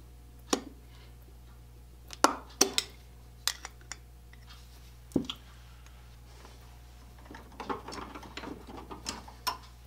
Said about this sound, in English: Now we'll pull this choke plate out.